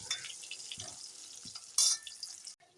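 Taro slices fry under a lid in a pan, making a faint, soft sizzle with a few light clatters and one brief louder hiss near the end.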